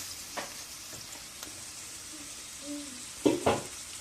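Onions and dry spices frying in a pan for a carrot curry, with a steady soft sizzle and a few scraping stirs toward the end.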